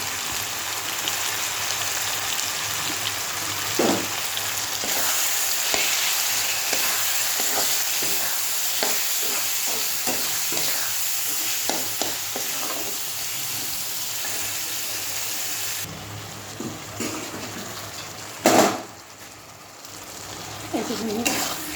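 Ground coriander, cumin and turmeric sizzle steadily in a hot pan, with repeated scrapes and clinks of a spoon stirring the spices through the oil; no one speaks, and a brief louder clatter comes near the end.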